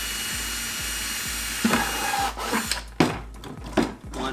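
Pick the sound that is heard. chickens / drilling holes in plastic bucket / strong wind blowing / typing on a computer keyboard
drilling holes in plastic bucket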